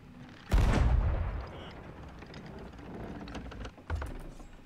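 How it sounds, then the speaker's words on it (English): Heavy ship cannons boom in the pirate video game Sea of Thieves: one loud, close blast with a long rumbling tail, then a second shot a few seconds later over background game noise. "Dude, look at these cannons!"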